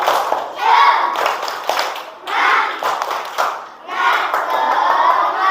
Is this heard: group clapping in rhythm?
yes